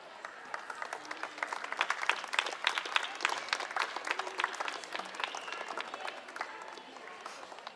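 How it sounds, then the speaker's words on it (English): Applause at an interschool competition for a special prize winner from an institute for the blind, a moderate crowd clapping with distinct individual claps audible throughout, steady and fairly close. "Give a big round of applause."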